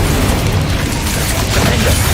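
A Bombarda blast spell in Hogwarts Legacy, a loud, dense booming burst that fills the whole moment with rumbling low-end energy, no voices over it.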